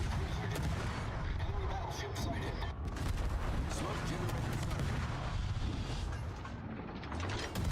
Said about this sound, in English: Incoming missile. Shields up.